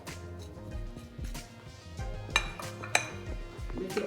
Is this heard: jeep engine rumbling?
no